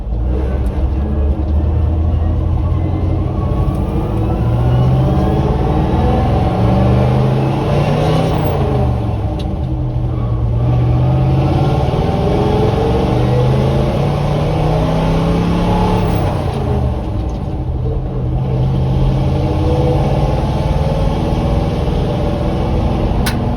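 A 1961 Chevrolet C10 pickup drives slowly in low crawl gear, its engine droning loud and steady with slow rises and dips in pitch as it pulls, close up inside the cab with no talk.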